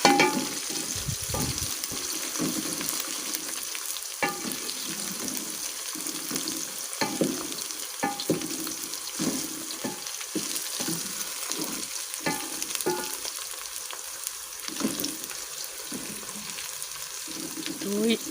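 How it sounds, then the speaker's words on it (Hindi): Garlic and ginger paste stir-frying in a pan for a dhaba-style mixed vegetable dish of potato, peas and carrot: a steady close sizzle with repeated scraping and stirring clatters from a spoon against the pan. "और अब हम इसमें लहसुन और अदरक का पेस्ट डालेंगे।"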